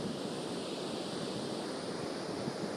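Ocean waves wash steadily onto a beach on an overcast, chilly day, a continuous close roar of surf with wind, no voices.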